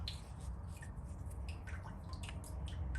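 Water from a garden hose runs steadily into a sink draining to a 5-gallon bucket, a continuous low wash with light dripping and splashing on top, moderately close and alone.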